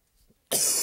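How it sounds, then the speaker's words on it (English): A single loud, harsh cough bursts out near the microphone during a real analysis lecture, following a few faint quiet sounds and holding steady to the end. "Just coughed."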